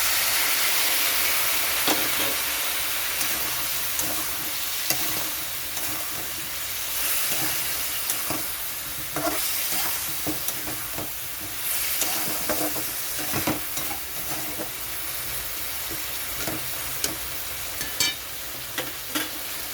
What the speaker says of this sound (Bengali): মশলাটা কষানোর জন্য একটু জল দিয়ে দিচ্ছি